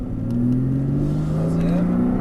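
A Porsche Cayman S engine accelerates on a race track, a steady rising drone as revs climb under light throttle, heard from inside the car.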